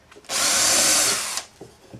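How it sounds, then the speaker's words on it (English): A power drill whines loudly for about a second as it pre-drills a wooden bluebird house piece, then spins down and stops. "I'm going to pre-drill this piece"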